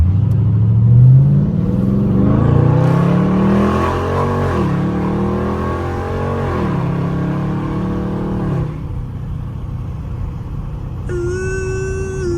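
Engine of a Dodge Scat Pack car revving while driving, a loud, near rumble that climbs and falls through several gear pulls before settling to a steady cruising drone, with a tonal chime entering at the end.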